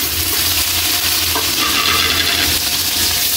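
Onion and tomato fry in a pan, giving a loud, steady sizzle with faint stirring scrapes throughout, close and continuous with no talking.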